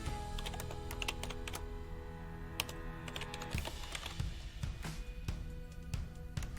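Rapid typing on a computer keyboard, a steady stream of close, crisp key clicks with a few louder keystrokes and no talk.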